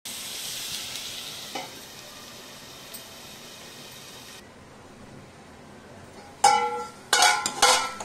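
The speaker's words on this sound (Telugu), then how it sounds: "ఒక 2 మినిట్స్ వరకు ఆనియన్స్ ని మనం ఫ్రై చేసుకొని లిడ్ పెట్టి క్లోజ్ చేసుకుని మగ్గనిద్దాం" Onions sizzle in a pan for chicken curry, a steady hiss for about four seconds that then quiets, with a few clinks of a lid or utensil near the end.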